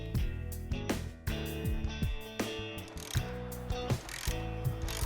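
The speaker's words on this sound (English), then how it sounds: "When you've done that, go ahead and break that bolt loose." A hand ratchet clicks fast and near, working the top shock bolt loose on a Kawasaki KLR650, steady pawl ticking with short pauses and a slight change of pace, no voices.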